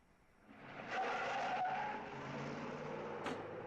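A car pulls away nearby, its engine swelling with a brief tire-skid squeal, then settling into a steady rumble as it drives off.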